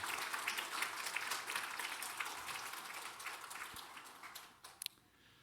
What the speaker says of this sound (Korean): 우리 같이 환영하면서 박수하십시다.